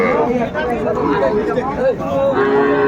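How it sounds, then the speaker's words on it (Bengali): Calves and young bulls low and moo at a busy cattle market in Ambari, Dinajpur, with drawn-out calls rising over a background of crowd chatter. "আমরা এই গরুগুলো নিয়ে কিছু কথা বলবো হাবিবুর ভাইয়ের সাথে"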